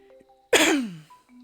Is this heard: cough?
yes